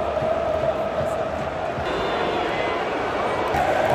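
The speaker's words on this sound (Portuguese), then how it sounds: "Ó, a torcida do Fluminense cantando" Fluminense football supporters in a stadium crowd keep up a steady, dense roar of group chanting, loud and continuous throughout, with a tonal singing band running underneath.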